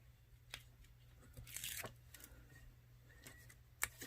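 Tape being peeled off a burnished paper edge: a few soft, scattered tearing and crackling rips, close and quiet, with a brief louder rasping stretch and a sharp final snap.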